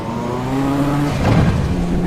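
Formula 1 car engine screaming at full boost in the racing game Assetto Corsa, a loud sustained harmonic drone that shifts pitch as it revs, with some tyre noise layered underneath.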